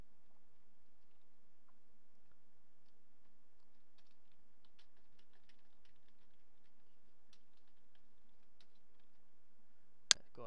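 Quiet, scattered clicks of typing on a computer keyboard come in irregular bursts over a faint hum, ending with one sharp, louder click.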